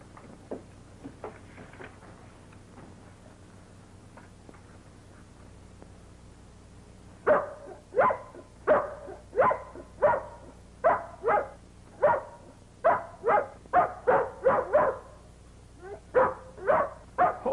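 A dog barks repeatedly in a fast, insistent series of sharp barks, close by, after a few softer yips at the start.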